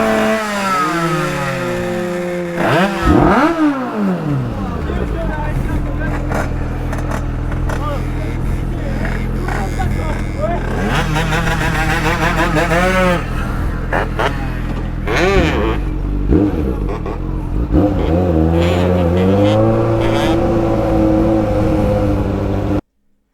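A vehicle engine revs up and accelerates in loud, rising and falling surges that run almost throughout, with voices talking over the droning motor.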